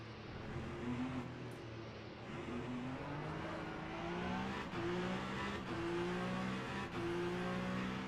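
A Peugeot prototype race car in Le Mans Ultimate at Monza holds a steady, fairly muted engine drone with rising gear pulls and brief shift breaks. Other cars blend in at a distance, and nobody talks.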